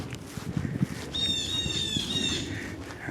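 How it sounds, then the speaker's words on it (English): Birds along a wooded hiking trail call out with a clear high whistled note and a few squawks, moderately near, over faint rustling and footsteps. "You hear these birds?"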